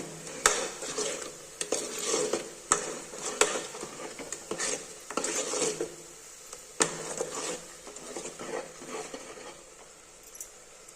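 Ingredients and chilli powder stirred together in a cooking pot for a country chicken curry, a quiet irregular series of scrapes and taps of a spoon against the pot over a low sizzle, close and without voices.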